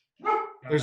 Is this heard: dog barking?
yes